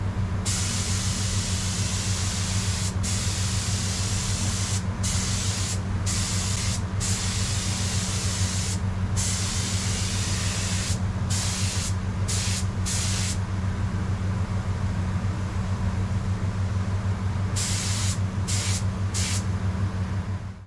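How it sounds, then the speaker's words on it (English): A spray gun hisses in a continuous stream, spraying amber and clear lacquer over a steady low mechanical hum, broken by several short pauses between passes. "lay down some coats of amber lacquer, followed an hour or so later by a couple of light coats of clear lacquer"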